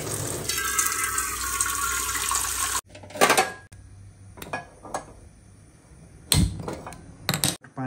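Water gushes loudly into a metal pot before it is set on a gas stove to heat, then stops, followed by a few sharp clanks and handling knocks, close by with no speech.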